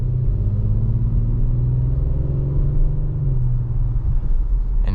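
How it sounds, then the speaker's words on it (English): A 2022 Audi SQ5 Premium Plus V6 engine rumbles deep and throaty from inside the cabin while driving on the road, a loud, steady drone with a slight dip in pitch near the end. "This V6 also has the very deep, sort of throaty sound to it."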